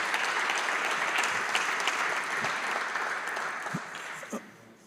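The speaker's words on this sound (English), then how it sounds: "a big round of applause is due to them" Steady applause from a summit audience after opening remarks, a dense even patter of many hands that holds for several seconds, then thins and fades near the end.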